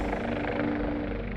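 A news helicopter hovering over Oklahoma floodwaters where a couple is stranded on their pickup truck, giving a steady, continuous rotor drone with a low thrum, fairly loud and unbroken throughout.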